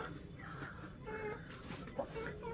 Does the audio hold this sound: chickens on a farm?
yes